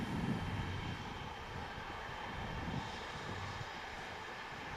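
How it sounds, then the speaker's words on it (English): An Airbus A330 jet airliner departing Manchester Airport, a steady broadband engine roar held at an even level throughout, distant rather than close, with no talk. "Beautiful departure from the 330."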